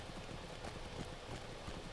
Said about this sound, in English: We will ride our horse in the rain to Mickle Delving.